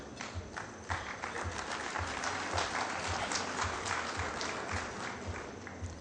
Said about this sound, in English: that was a round of applause which was led by the man from Runda